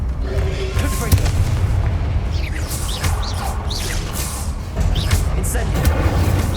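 Explosive Confringo spell blasts in Hogwarts Legacy, heavy booming bursts among spell whooshes and combat noise. Some are loud and near, one sharp hit lands early, and a voice is heard in the mix.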